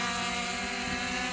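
A JJRC Epik X5-Pro camera drone taking off on its automatic launch, its propellers giving a steady, loud whirring drone with a constant pitch that fills the whole moment, with no one speaking.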